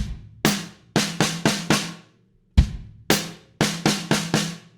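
A drum kit plays a fill bar from a drum lesson: a series of sharp, close hits in quick groups, with a short pause in the middle and no talking.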